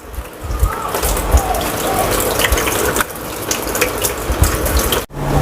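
Running water from a tap splashes steadily over beef offal being rinsed in a kitchen sink, close and continuous with brief dips, no voices.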